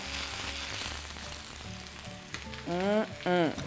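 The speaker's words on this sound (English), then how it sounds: "we're gonna sear this on both sides for 2 to 3 minutes" Beef sears in a hot pan, giving a steady sizzle that swells near the end, with a short rising squeal-like tone over the frying noise and no speech.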